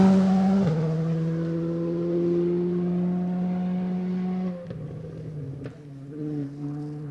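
A rally car engine roars hard through gear changes at the 2023 Gippsland Rally, revs dropping and climbing as it brakes and accelerates out of a corner, loud and close.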